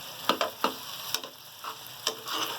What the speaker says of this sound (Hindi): बैंगन हमने जो भून के रखे हैं, धो के रखे हैं, मसाले के साथ हम 10 मिनट इसको भूनने के लिए रखेंगे